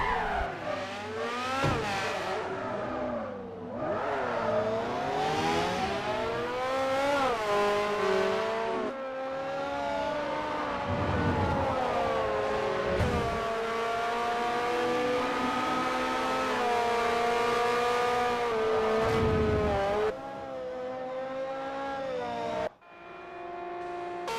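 Formula racing cars on a warm-up lap in the Forza racing game, their engines whining and revving with steadily rising and falling pitch. Several cars overlap in a loud, continuous drone with no talk.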